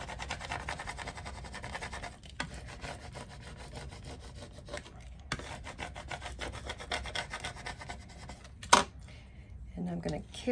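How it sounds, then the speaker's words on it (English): A transfer is burnished by hand onto a wooden charcuterie board with steady close rubbing and scraping strokes, broken by a few short pauses and a sharp click near the end. "that looks good to me, so I'm going to burnish it down"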